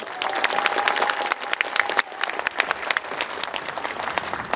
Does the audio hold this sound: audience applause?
yes